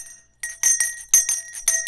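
A hand bell rings in repeated bright, metallic clangs, four quick shaking bursts close to the listener with sustained ringing tones between strikes.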